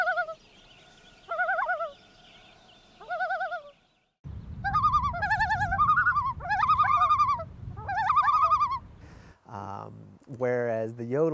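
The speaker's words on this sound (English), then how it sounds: "The tremolos are basically when loons are agitated, so it's believed to be a signal given when they're threatened." Common loons give repeated warbling tremolo calls, each a quavering burst of about a second, set against a steady low rumble through the middle and another rising call at the end.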